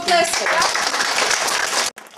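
Kindergarten children at the Dudaryk nursery clap in a dense, steady burst of applause that fills the room and then stops abruptly.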